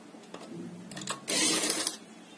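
Sewing machine stitching lining into a ready-made suit, a rattling mechanical run that builds into a loud, steady burst of stitching near the middle before easing off, close and with no talk.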